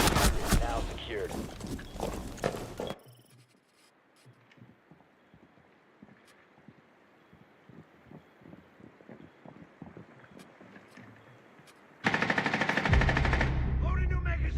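Tactical shooter video game gunfire: a loud burst of rapid automatic fire, a quieter stretch of scattered shots and clatter, then another loud, dense volley. Game voices speak alongside the shooting.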